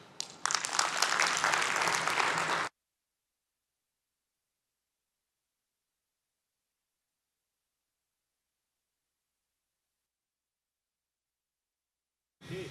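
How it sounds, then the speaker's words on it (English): Audience applause at an entrepreneur session, a dense burst of clapping for about two and a half seconds, then long silence before a brief return of clapping at the very end. "let's give one more round of applause to Amanda and Oliver."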